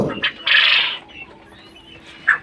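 Hens on a poultry egg farm let out short, loud squawks and clucks, one drawn-out call followed later by a couple of brief cackles, with quiet barn ambience between.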